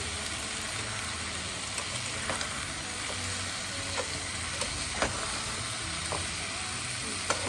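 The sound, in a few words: chicken frying and being stirred in a pan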